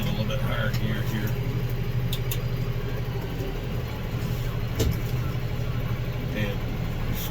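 Massey Ferguson tractor engine running while plowing, a steady mid-low rumble with clanks throughout, and someone talking over it.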